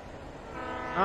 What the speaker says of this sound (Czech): Už mi jede vláček.